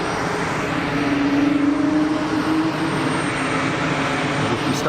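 Jet aircraft with big bucket-type thrust reversers deployed, a steady loud engine roar with a rising whine, close by at Geneva Airport.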